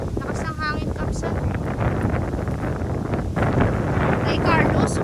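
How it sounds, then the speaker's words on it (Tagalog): Strong wind buffets the microphone in gusts at an outdoor rural farm field during a peanut harvest, roaring and rumbling throughout as people talk nearby. "Lakas ng hangin"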